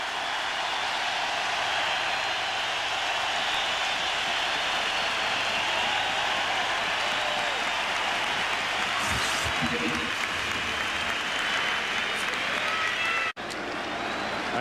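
Yankee Stadium crowd cheers and applauds Andy Pettitte with two out in the seventh of a 2003 ALCS game against the Red Sox, a continuous dense roar of clapping and crowd noise that holds steady throughout, with a brief dip near the end.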